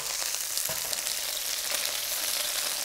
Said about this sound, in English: So I'm gonna give it a nice sear, nice stir.